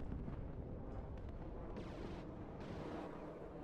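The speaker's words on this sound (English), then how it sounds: "Gonna fire off one missile, take out the M1A1 from the side there." Missile from a ground-attack plane striking the side of an M1A1 Abrams tank in the WARNO war game, a steady rumbling blast with crackling debris over dense battlefield noise, no talk.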